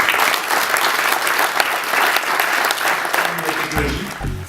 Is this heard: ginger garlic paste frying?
no